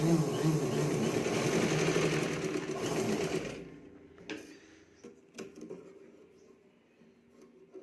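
Sewing machine stitching tucks into a katori blouse, a close, fast buzzing run for about three and a half seconds that stops abruptly, followed by a few scattered clicks and taps.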